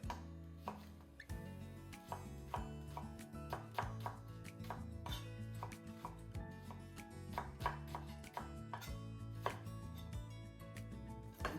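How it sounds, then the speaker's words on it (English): A knife roughly chops vegetables for smoked tomato confit on a cutting board, giving a steady series of quick, close thuds that run throughout under faint background music. "Just a rough chop on it."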